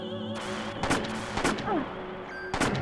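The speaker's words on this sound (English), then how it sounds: "And then start shooting." Gunfire from the Parasite Eve video game during a boss fight: a few sharp, separate shots land about half a second apart over a steady game background, with small electronic effect tones between them.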